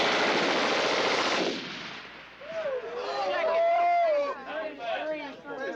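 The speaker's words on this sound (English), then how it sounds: "he will fire all 20 rounds on automatic." An automatic gun fires all 20 rounds in one rapid, loud, continuous burst lasting about a second and a half. Whistling, chattering voices follow once the firing stops.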